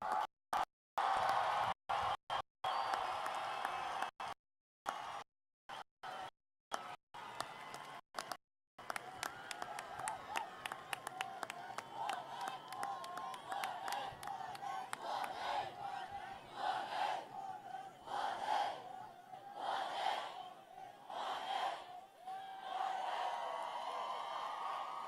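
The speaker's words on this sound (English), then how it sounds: "Let's give a round of applause for the class of 2018." Graduation crowd for King High School's class of 2018 erupts in applause and cheering. The sound starts broken by dropouts, then settles into a sustained, fairly distant roar of voices and clapping that swells in bursts.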